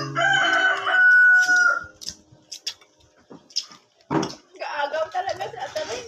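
A rooster crows loudly nearby at the start, a long drawn-out call, followed by scattered clucks and clatter; people then talk over the rest.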